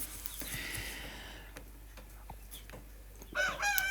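Farmyard chickens cluck softly and a rooster crows out near the end, with some clucking and crowing early on and light clicks between.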